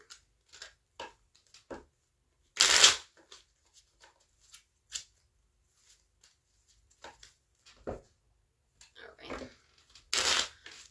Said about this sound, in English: I'm going to use playing cards. Get into shuffling.